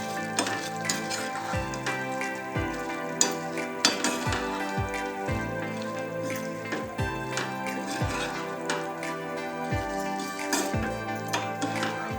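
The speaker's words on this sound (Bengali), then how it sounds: "এঁচোড় ভাজাগুলো দিয়ে দেবো" Soft frying sizzle beneath repeated scraping and clinking of a spatula stirring fried young jackfruit pieces around a pan for chilli jackfruit, rhythmic and fairly close.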